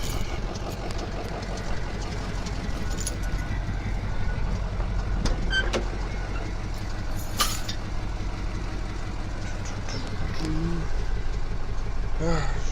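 A Ford F-250 truck engine idles while warming up with a steady, deep rumble close by, while occasional higher clicks and faint beeps sound over it.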